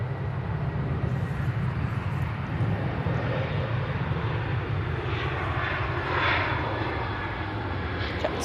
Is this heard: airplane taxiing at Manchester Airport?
yes